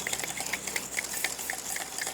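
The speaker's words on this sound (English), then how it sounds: "finished whisking this, the dry ingredients" A whisk beats dry ingredients for banana bread in a bowl, giving a quick, steady rhythmic scraping and ticking, about four strokes per second, close and moderately loud with no talking.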